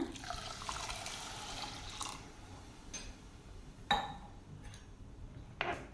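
Water poured into a pot of washed sago set on a stove, a faint steady splashing trickle with a few brief clinks of metal and glass scattered through, quiet and close.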